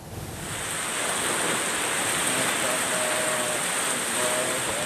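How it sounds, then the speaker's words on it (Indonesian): Heavy rain and strong tornado winds lash Karangmalang village in Cirebon, West Java, during a storm: a steady, loud, dense roar of downpour and gusting wind that rises quickly and holds without letup. "Hujan deras dan angin puting beliung menerpa desa Karangmalang"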